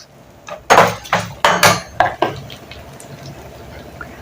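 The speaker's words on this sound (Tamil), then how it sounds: "இந்த தேங்காய் நல்லா வதக்கிக்கலாம் கொஞ்சம் ஃப்ரை ஆகட்டும்" Grated coconut sautéed in a pan for mint-coriander chutney, heard as a quick run of loud scraping stirs and clanks against the pan, then a quieter sizzle.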